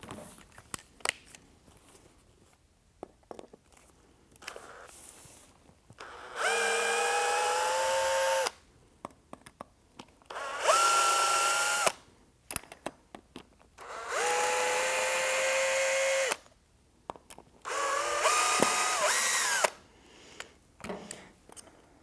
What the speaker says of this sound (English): first, I will remove the screws and the bracket from our old shoulder rest.